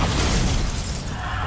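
A Bombarda blast spell from the wizarding game Hogwarts Legacy goes off as one loud, continuous burst with a shattering, explosive roar that fills the whole moment.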